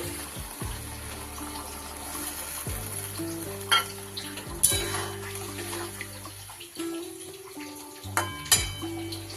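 Chichinge (snake gourd), potato and bori posto being stirred in a pan for a Bengali vegetarian dish, with steady close sizzling, a few sharp spoon scrapes and clinks, and a short quieter lull near the end before the stirring resumes.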